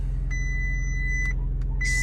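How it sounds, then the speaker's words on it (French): Warning beeps from a Volkswagen Golf 8 R sounding because the key was left outside: a sustained two-tone chime, a break, then another starting, over a steady low engine idle rumble. "c'est là la voiture elle pète les plombs parce que la clé elle est dehors"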